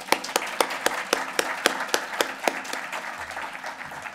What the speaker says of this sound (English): Let's give a round of applause to our partner.